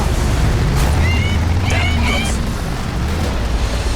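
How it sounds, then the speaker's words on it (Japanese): Explosions boom in the off-road racing game Trail Out, a dense rumbling blast with crackling bursts over steady engine drone, loud and continuous. "なんか爆発してんですけど。"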